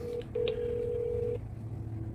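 Video game phone dialing: a short beep, a pause, then a long steady tone under faint background game sound, with no talk.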